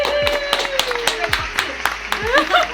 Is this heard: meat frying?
no